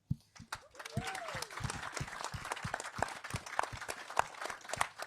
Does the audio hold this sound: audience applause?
yes